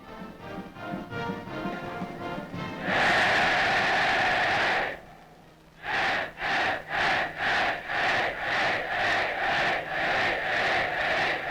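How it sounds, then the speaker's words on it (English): Navy midshipmen cheer in a packed stadium of 67,000 spectators at an Army–Navy game: a loud massed roar swells, breaks off, then returns as a rhythmic series of short chanted bursts. "the Navy midshipmen give them a cheer"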